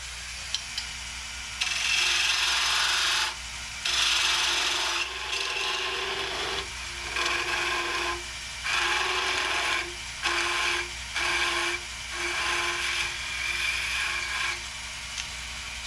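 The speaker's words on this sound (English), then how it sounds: "I'm gonna use a 3/8 Robert Sorby spindle gouge. Light cuts and a sharp tool equals success." A 3/8-inch spindle gouge taking light cuts on a wooden sea urchin ornament spinning on a lathe, a steady scraping hiss in repeated short passes of one to two seconds over a low motor hum.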